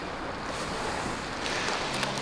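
Waves breaking steadily on a rocky Scottish shore in Fife, a continuous broadband wash of surf with some wind noise on the microphone, fairly close and with no talk.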